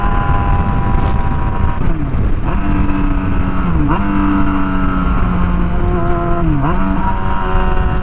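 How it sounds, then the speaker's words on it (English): A Yamaha FZ6R sport motorcycle fitted with R6 rear-sets, its engine droning loud and close, with repeated rev dips and blips as it downshifts through gears while riding. "Alright, some more downshifting."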